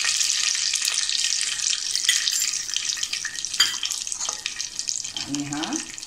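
Mustard seeds added to hot oil on a low flame for tempering produce a continuous bright sizzle with scattered crackles, while a voice speaks softly near the end.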